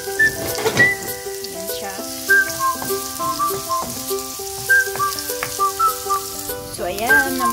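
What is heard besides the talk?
ginger sizzling as it fries in a pan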